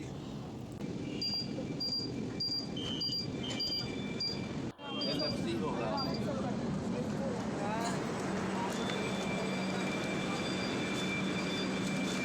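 An above-ground metro rail train runs with a steady, moderately loud rumble and a string of high electronic beeps early on. After a short break, the rumble carries on under people talking nearby.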